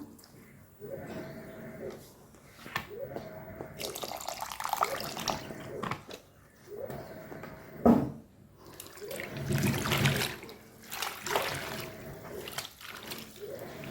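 Water runs and pours in repeated surges into a basin to wash whole bundles of fresh mint. The splashing rushes swell and ebb close by, with a brief louder gush midway.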